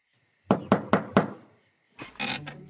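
Four sharp knocks on a door land in a quick, even sequence, followed after a pause by a voice.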